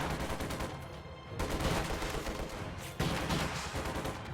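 DP machine gun fire in a World War II strategy video game, dense rapid bursts that continue almost without pause, loud and close, with a sharp new burst partway through and no talking.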